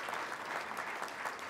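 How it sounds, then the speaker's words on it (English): Applause at the VerdeXchange green-agenda conference in Los Angeles County for David Abel and Bill Allen, a short, fairly faint wash of many hands clapping from a distant crowd. "Why don't you give them a big round of applause,"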